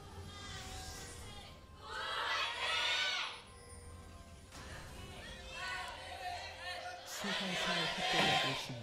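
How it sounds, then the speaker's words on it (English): Chaotic cheering and yelling from a Korean esports audience at an LCK Summer 2015 League of Legends match, KOO Tigers versus Anarchy, swelling in bursts over a steady crowd roar with a commentator's voice over it. "That was actually the most chaotic cheer I think I've ever heard from a Korean audience"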